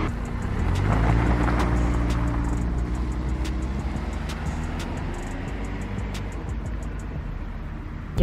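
A Chrysler PT Cruiser engine runs steadily at a low, even idle, with a constant rumble and faint ticking, close by and alone.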